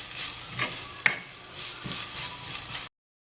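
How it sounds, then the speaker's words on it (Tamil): Cumin and coriander sautéing in a pan for a cashew nut curry, a soft steady sizzle with a few scraping stirs and one sharp utensil tap, close and fairly quiet, ending abruptly. "ஒரு நிமிஷமாக வதங்கி கொண்டு இருக்குது"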